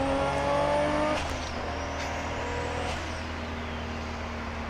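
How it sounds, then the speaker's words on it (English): A modified 1995 Nissan Skyline R33 GT-R six-cylinder engine drops pitch on a rev-matched downshift, then holds a strong, steady drone as it pulls hard out of a corner, loud and close with no voices. "Rev match downshift, power into the corner."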